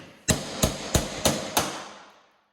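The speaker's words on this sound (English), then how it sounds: "just use a punch and a hammer" Five sharp metallic hammer strikes on a punch driving out rivets on a 2019 Ski-Doo snowmobile tunnel, evenly spaced about a third of a second apart, ringing briefly before fading out.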